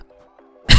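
A single sharp cough bursts out close to the microphone after a moment of near silence, loud and abrupt at the very end.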